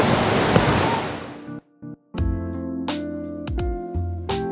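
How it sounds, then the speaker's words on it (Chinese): Tiebilun waterfall in Ren'ai, Nantou roars as a dense, steady wash of falling water for about a second and a half before cutting off, and music takes over. "这么美的瀑布"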